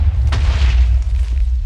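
A TNT block explodes in Minecraft with a loud, deep boom whose heavy low rumble rolls on and slowly fades.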